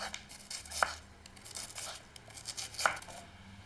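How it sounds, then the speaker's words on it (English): A knife slicing cherry tomatoes and purple onion on a board in a rustic Italian kitchen. Faint, soft cutting and tearing sounds are punctuated by two sharper chops, heard up close and quiet. "And now you can start cutting your vegetables."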